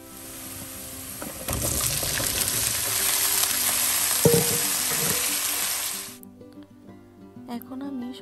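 Chopped onions sizzle in hot oil in a pan while half a teaspoon of turmeric powder is stirred in for a vegetable fry. A loud, close frying hiss runs for several seconds, then cuts off abruptly, with a voice talking.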